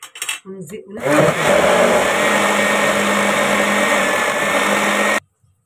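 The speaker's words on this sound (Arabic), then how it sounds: "نضيف حبه اللبن دول ونضربه مع الحاجه في الخلاط اهو" An electric blender whirs steadily for about four seconds while mixing milk into the batter for economical Eid cookie dough, then cuts off abruptly. Short sounds of handling come just before it starts.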